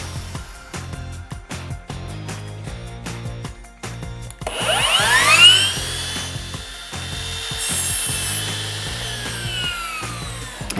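A power saw makes a straight cut through wooden door trim, setting in loudly around the midpoint with a rising whine that holds steady to the end, after quieter handling sounds and taps.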